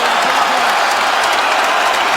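A packed fight arena crowd roars and applauds loudly and steadily after an MMA bout, a dense wall of clapping and cheering with no break.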